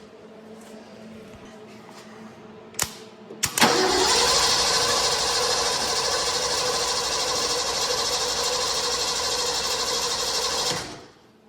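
An old Ford engine turns over after a couple of sharp clicks, then a loud, steady whirring crank runs on for about seven seconds without catching before cutting off, close up.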